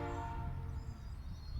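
A train passes at a distance with a steady low rumble of wheels and wagons and a horn sounding over it, heard from indoors.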